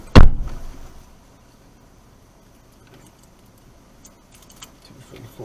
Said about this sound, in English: Keep the car keys.